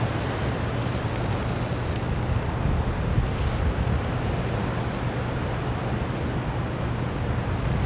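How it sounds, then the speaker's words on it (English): Strong February wind blowing outdoors in northern Delaware, a constant broad rushing roar that stays loud and even from start to finish, with no talking. "Here comes some wind."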